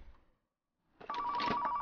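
Telephone ringing in the video game Car Mechanic Simulator 2015: a sustained electronic ring with a steady tone starts after a brief silence and continues loud and alone.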